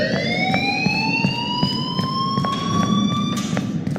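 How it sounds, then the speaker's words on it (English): An alarm sounds in the video game Life Is Strange: a steady, rising electronic siren tone with bright harmonics, overlaid by regular clicking pulses, running loud and continuous with no voices. "please turn off that alarm since that's your job"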